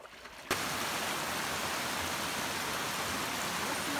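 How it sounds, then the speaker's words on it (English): Brook water cascades steadily on the Appalachian Trail in Maine's 100 Mile Wilderness, a dense close rushing hiss that starts abruptly after a half-second of quieter ambience and holds constant, with no voices. "Lovely cascade is my water source for the day."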